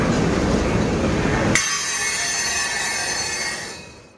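A freight train with Burlington Northern hoppers rolls past close by, a loud steady rumble of wheels on rail with a sharp metallic squeal and clanking that switches to a bright ringing tone partway through before easing off.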